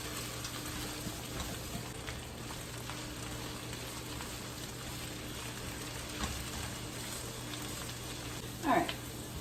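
Shrimp and spinach frying in a pan for enchiladas, with a soft continuous sizzle and faint crackle, quiet and close, plus a brief stir or scrape near the end.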